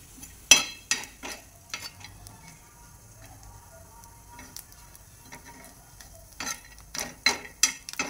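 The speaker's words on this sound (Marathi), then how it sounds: "हे झालं की खोबरं भाजायचं।" Grated coconut roasts dry in a pan as a spoon stirs and scrapes it, producing sharp clinks and scraping strokes over a faint, quiet background.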